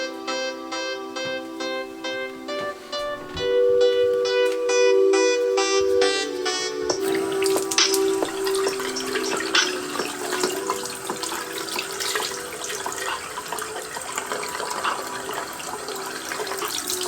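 A Bluetooth speaker playing music is splashed around in water, giving loud sloshing and splashing that swells over the muffled tones of the music for most of the stretch.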